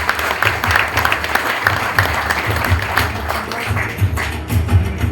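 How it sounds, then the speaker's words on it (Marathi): Steady applause from an audience at a police ceremony returning recovered stolen property to complainants, a dense, continuous patter of clapping hands that holds at an even level throughout. "प्लीज टाळ्या झाल्या पाहिजे जोरदार"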